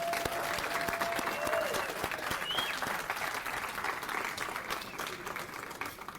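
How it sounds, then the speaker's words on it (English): Sustained applause from an audience at a volunteer awards ceremony, honoring group award recipients; dense, steady clapping at moderate distance with a faint voice or tone briefly audible early on. "Let's have another round of applause for all of our group recipients."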